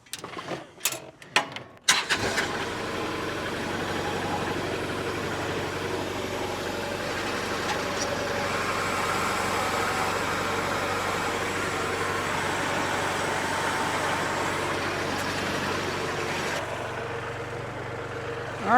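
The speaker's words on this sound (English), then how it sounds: "I think I can maneuver it all with the tractor and not cave in the hole." A tractor engine drones steadily and fairly loud while the machine maneuvers around a hole being dug and packed, after a few sharp knocks at the start.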